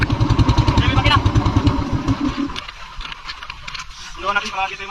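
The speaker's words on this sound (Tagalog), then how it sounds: "Yan yung makina." A motorcycle engine runs close by, a steady pulsing drone for the first half that drops away to a quieter rattle, with people talking over it.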